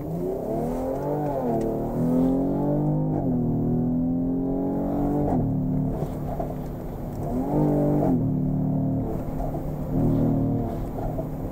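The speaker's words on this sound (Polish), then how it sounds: "Najfajniejszy efekt jest po odpuszczeniu gazu, kiedy wydech siarczyście strzela." A Mercedes GLE 43 AMG Coupe in Sport Plus mode repeatedly revs and lifts off the throttle. The engine note rises and falls, and scattered sharp exhaust pops crackle from the active exhaust, heard fairly close with no talking.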